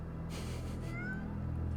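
A cat in the animated film Soul lets out a soft, rising meow over a low steady hum, one short plaintive call in a quiet scene.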